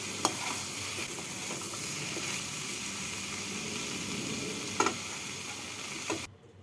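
Bathua greens with fried dry chilies and poppy seeds, cooked with brinjal bori, stirred in a pan with a steady low sizzle and a couple of sharp utensil taps, no voices.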